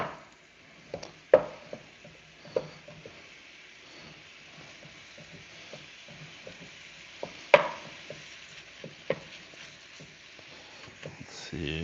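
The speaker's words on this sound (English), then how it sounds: "Break the meat up." Ground meat being broken up with a spatula in a pan on the stove, with sharp scraping taps scattered irregularly over a low background hiss, a few louder hits standing out.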